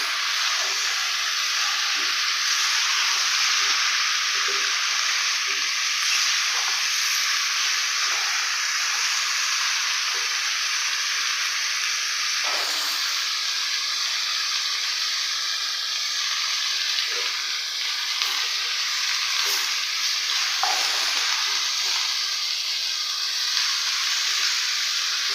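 Steady, dense sizzle of gourd and potato frying in spiced oil for Taki fish curry, continuous and close with occasional stirring scrapes, no talking.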